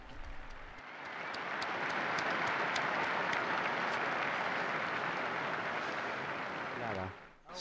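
Crowd applause for new beati after the Angelus address, a broad sustained roar of many people clapping outdoors, swelling up and holding steady before fading as a voice begins at the end.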